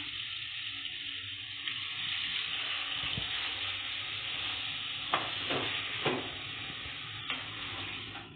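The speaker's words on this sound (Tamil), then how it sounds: "தக்காளியும் சேர்த்து நல்லா கிளறி விட்டுக்கலாம்." Tomatoes sizzle and are stirred in a frying pan with vegetables for chow chow and radish sambar, a steady close frying hiss broken by a few sharp scraping taps of the spoon, with no talk.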